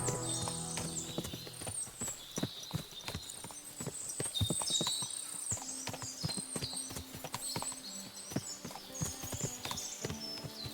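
Many horses clip-clopping in quick overlapping hoofbeats in the video game Kingdom Come: Deliverance II, steady and busy, with occasional whinnies above.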